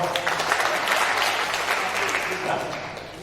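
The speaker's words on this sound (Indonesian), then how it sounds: "Tepuk tangan dulu untuk pasangan ini dong." Audience applause breaks out at a couples' leaders gathering, a steady wash of clapping hands from a crowd filling the whole stretch, with a voice faintly underneath.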